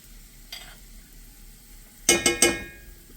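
Minced garlic dropped into a hot pan, a brief hiss early on, then three sharp sizzling bursts close together near the end, with a quiet background between.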